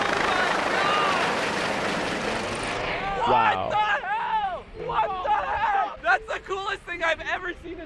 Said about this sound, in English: I've never seen a helicopter that close